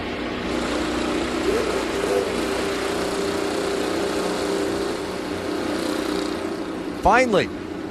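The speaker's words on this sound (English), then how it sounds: "Drivers, start your engine!" IndyCar race car engines fire up at the St. Petersburg street circuit in the 2015 season opener, heard as a steady distant drone and crowd wash, then a brief, sharp, rising engine rev near the end.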